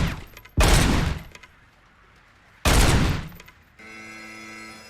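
Gunfire in the RoboCop video game: two loud bursts of rapid automatic fire, each decaying into a lingering rumble, then a steady electronic ringing tone takes over at the end.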